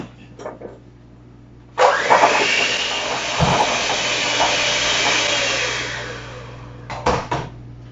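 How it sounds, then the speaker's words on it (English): An electric hand mixer creaming cookie dough ingredients for s'mores, a steady loud whirring drone lasting several seconds with a clack before and brief bumps of the beaters against the bowl after it stops. "you get your trusty rusty mixer and you cream it all together until it's well blended"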